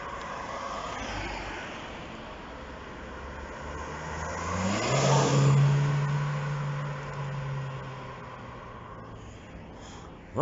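A Lancia Delta GT-Line Turbo approaches and passes, its engine note rising to a loud, strong drone midway before fading, over steady road and ambient rumble.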